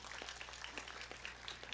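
Audience at an Islamic religious gathering in Klambu village, Grobogan, applauding the organising committee with light, steady scattered clapping from many hands, fairly faint and continuous.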